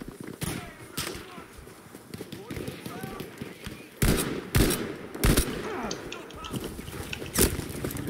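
Lee Enfield bolt-action rifle gunfire in Battlefield 5, several sharp loud shots at uneven intervals over a busy battlefield background of distant gunfire, with a player talking over it.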